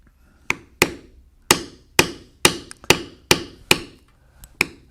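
A mallet strikes a B702 leather beveler around the outline of carved buffalo horns, about ten sharp, close taps in a steady, slightly uneven rhythm with brief pauses between blows.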